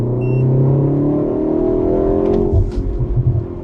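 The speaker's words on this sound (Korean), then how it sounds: "이거 팝콘 소리, 뱅 사운드 이거 아주 기분 좋습니다" Hyundai Avante N exhaust rumbling at a steady drone, then breaking into a rapid run of deep, heavy pops and bangs near the end, close and loud with no talk.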